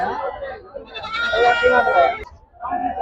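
Male goats bleat in loud, wavering cries close by at a livestock market, with a short pause before another call begins; voices may mix in.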